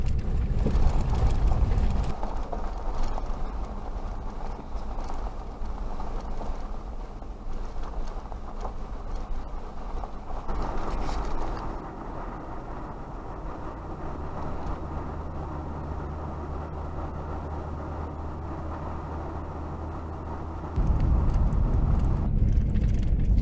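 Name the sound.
truck driving on road, Rubicon or 4Runner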